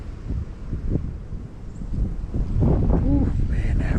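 Wind gusts across a winter creek in a low, steady rumble of microphone buffeting that swells louder toward the end, with someone talking over it.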